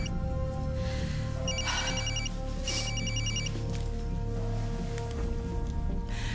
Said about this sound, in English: Whose phone is that? Oh my God, it's mine.